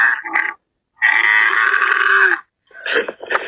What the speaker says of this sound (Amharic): የግመል ማንኮራፋት እንደዚህ ነው።